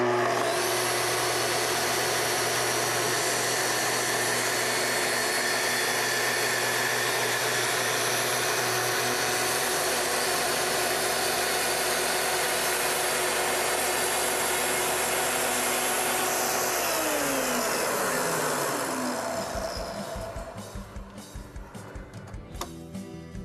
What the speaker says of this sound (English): To make your cut, plunge in slowly all the way down and advance forward